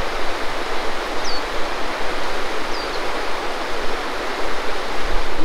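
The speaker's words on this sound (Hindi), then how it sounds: "ये रामगंगा नदी है।" The Ramganga river in Jim Corbett forest flows in a steady, broad rushing wash that fills the scene, with faint bird chirps above it and no talking.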